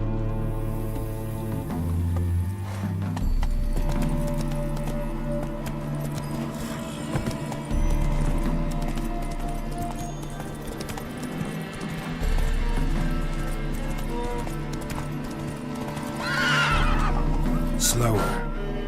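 Roach, the horse in The Witcher 3, neighs and whinnies over a busy game soundscape with music, with galloping hooves mixed into the steady background.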